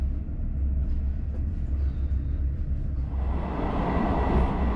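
Inside a Czech local train carriage on the move between Štramberk and Studénka, a loud, constant low rumble of wheels and body rattle that grows harsher and noisier toward the end, with no voices.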